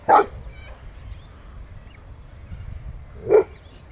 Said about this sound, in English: Bloody dog going off its rocker over there